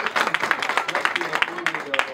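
Audience applause welcoming a volunteer at a live stage show, a dense patter of clapping with voices mixed in throughout.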